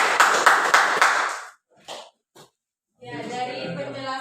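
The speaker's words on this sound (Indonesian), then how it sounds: "beri dulu tepuk tangan" A classroom group claps together in a short burst of applause during a micro-teaching lesson, the clapping fairly close and lively before fading, followed after a pause by someone speaking.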